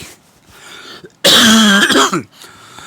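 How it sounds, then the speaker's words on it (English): A single harsh, loud cough bursts out close by, lasting about a second amid otherwise quiet surroundings. "Don't mind the coughing, just been a little under the weather."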